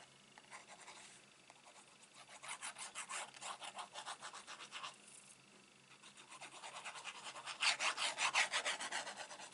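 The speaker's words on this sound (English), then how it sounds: "Spin it over, I'm just going to give it a rub from the back." Rubbing the back of a paper craft card by hand produces soft, rhythmic rasping strokes in several short bursts, quiet and close with no voices.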